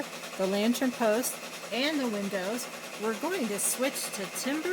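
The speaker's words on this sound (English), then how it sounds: "I have another machine running in the background." Embroidery machine runs steadily in the background with a buzzing mechanical whir under a woman's continuous close speech.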